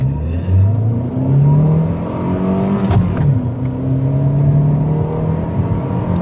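A Skoda Felicia running on E10 fuel mixed with vodka revs and pulls along a slippery road, its engine note rising and falling through gears from inside the cabin, loud and steady with a brief knock midway.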